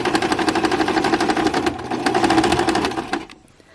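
A sewing machine runs steadily, stitching fabric for an embroidered Christmas stocking, its rapid mechanical chatter continuous and close for about three seconds before stopping abruptly.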